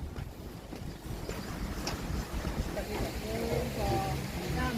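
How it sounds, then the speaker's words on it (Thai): Strong wind gusts buffet the microphone at an outdoor temple park, a steady rumbling roar throughout with someone talking faintly under it. "ลมแรงมากเลยท่านผู้ชม ลมแรงจริงๆครับเนี่ย"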